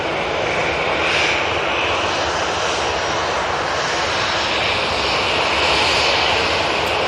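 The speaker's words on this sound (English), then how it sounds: "we've got Ryanair coming on in front of us" A Ryanair jet airliner arriving at Manchester Airport, its engines a loud, steady roar that fills the whole stretch with broad rushing noise and no voices.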